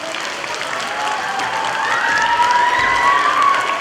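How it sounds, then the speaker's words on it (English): A school assembly audience applauds in a dense, steady wash of clapping that swells slightly toward the end, with a few children's voices rising above it. "Give yourselves a round of applause."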